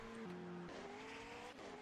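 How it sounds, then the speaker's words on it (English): Race cars pulling out of the pits onto the Adelaide street circuit in a hypercar sim racing game, a steady engine drone with shifting pitch tones and brief tire squeal, loud and continuous. "So cars are now coming out onto the circuit."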